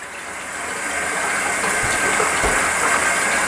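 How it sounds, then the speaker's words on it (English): Tap water runs from a faucet in a steady, hissing stream, swelling slightly at the start, then holding constant and close, with no talk. "we will turn our water on and let it run for approximately 5 minutes"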